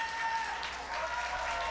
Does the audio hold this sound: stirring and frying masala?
no